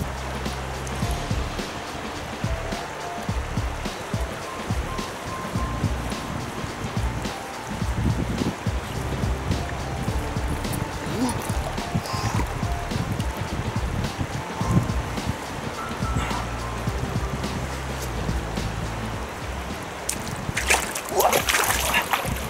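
Legs wade through a cold river in a Carpathian forest, with continuous splashing and sloshing of water close by, dense and uneven, plus occasional sharper splashes near the end.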